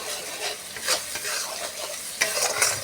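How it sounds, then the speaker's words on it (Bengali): Mustard fish masala paste for a Bengali mustard katla dish being sautéed in a pan: a continuous hissing sizzle broken by scraping stirs and a few louder spatula strokes, close and fairly loud, with no talking. "মশলাটা ভালো করে আমি কষিয়ে নিই।"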